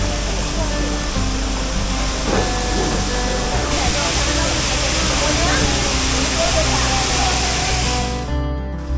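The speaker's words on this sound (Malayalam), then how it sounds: "ഇതാണ് ഞാൻ പറഞ്ഞ വെള്ളച്ചാട്ടം." A waterfall in Idukki, between Marayoor and Kanthalloor, spills down over a rocky face, giving a loud, continuous roar of rushing water heard up close that fades near the end.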